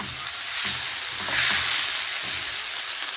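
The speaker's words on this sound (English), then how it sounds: "my heat is on medium to high, just to give it a good sizzle." Quinoa stir-frying in a pan over medium-high heat, giving a steady broad sizzle with soft scraping stirs and a brief swell in the middle, close and loud with no talk.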